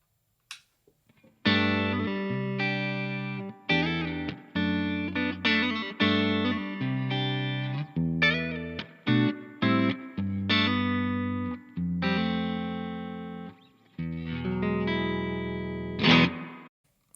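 Electric guitar through a Laney LFS60 amp with reverb and the bright switch engaged: a string of strummed chords and riffs with ringing sustain and short gaps, ending on a final accented chord.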